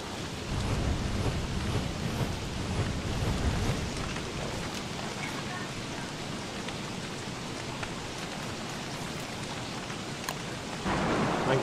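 Steady heavy rain falls inside a video game, a dense continuous hiss with soft low thunder rumbling in the background. It holds constant throughout and grows slightly louder near the end, with no talking.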